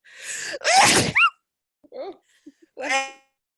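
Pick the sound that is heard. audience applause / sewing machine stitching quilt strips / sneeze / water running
sneeze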